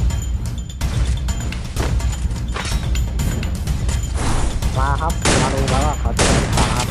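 Gunfire from the mobile battle royale game Free Fire: a rapid run of sharp shots and bursts, loud and close, over a constant bed of in-game effects and clatter, with brief talk underneath.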